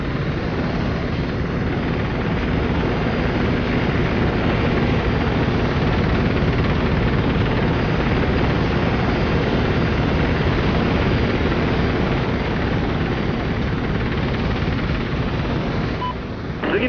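A military helicopter in Operation Flashpoint: Red River flies with a loud, continuous rotor thump and turbine roar, close and steady throughout with no talk.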